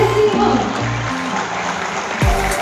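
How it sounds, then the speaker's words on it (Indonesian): Audience applause fills a hall at the 2021 season launch event for the Persipa Pati football team, a steady, dense wash of clapping lasting throughout, with low booming music or amplified tones underneath. "Beri tepuk tangan yang meriah untuk Desi Hall."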